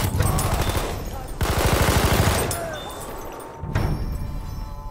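An SMG 08/18 submachine gun in Battlefield 1 fires in three long rapid bursts, loud and close, with a rattling rhythm and brief gaps between them.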